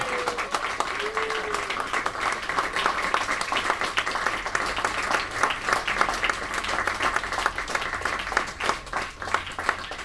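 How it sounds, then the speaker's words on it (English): Sustained applause from an award ceremony crowd at the 2018 Mind Sports Olympiad, dense and steady clapping throughout, with a brief cheer near the start. "let's give them all a really big round of applause"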